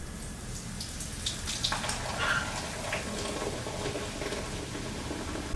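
A drink being poured into a bowl, a steady watery splash and trickle lasting several seconds at moderate level, with no talking.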